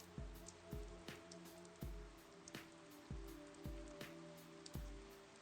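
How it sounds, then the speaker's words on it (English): Game rain in Persona 4 Arena Ultimax, a soft patter of falling drops under repeated dull, rhythmic thuds and a faint musical drone, quiet and steady. "It's raining."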